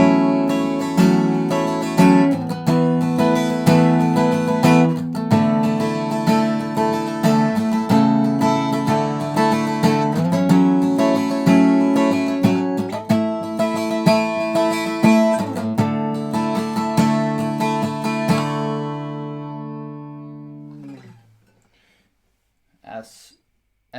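Acoustic guitar strumming a chord pattern, steady rhythmic strokes ringing full and close for about twenty seconds, slowing and fading into a last decaying chord, followed by faint handling noise.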